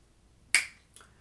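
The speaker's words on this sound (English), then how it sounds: "So I'll snap the 8th note," Two finger snaps mark eighth notes, a sharp close crack followed by a fainter second snap about half a second later, in an otherwise quiet room.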